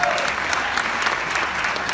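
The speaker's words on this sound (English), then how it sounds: "And give yourself a round of applause." Brief burst of audience applause after a film premiere Q&A at Sundance, dense even clapping from a crowd, steady and moderately loud throughout.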